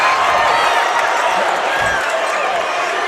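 Loud crowd noise fills a high school boys basketball playoff game between Sulphur Springs and Oak Cliff Faith Family, a steady dense roar of voices and cheering under announcer talk throughout.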